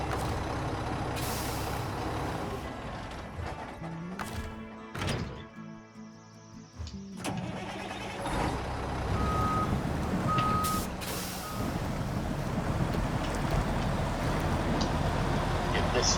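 A truck with a trailer stuck in a mine area within a driving game gives repeated reversing beeps, a hiss of air brakes and heavy thunks, with a speaking voice over much of it.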